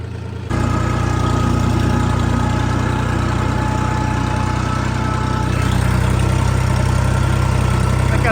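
A new tractor's engine running loud and close while it reverses into a garden plot, a steady low rumbling idle that holds unbroken throughout after a brief quieter moment at the start.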